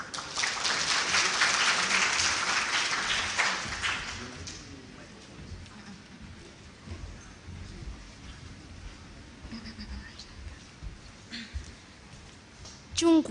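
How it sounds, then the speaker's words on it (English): Audience applause welcoming Kawangware martial artists at a December 2022 event in Kenya, a loud dense burst of clapping for about four seconds that thins into scattered claps and murmuring crowd noise. "let us welcome them with a applaud of a clap"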